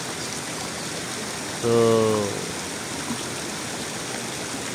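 Strong water pours out of a cave or tunnel in a constant, loud rush, with a short voice briefly over it.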